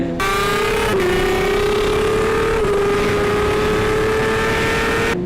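A tuned 2005 Suzuki GSX-R 600 sport bike, rated around 115 to 120 horsepower, holds a loud, steady engine drone with strong harmonics while riding, its pitch dipping briefly twice as the throttle shifts.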